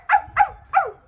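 A person voices three yelping dog barks in imitation of a chihuahua, evenly spaced and close, alone with no other talk.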